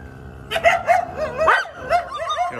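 Stray dogs bark in Varanasi near a territorial boundary between two packs, a string of sharp, fairly close yips and barks repeating every half second or so, some rising into whiny yelps.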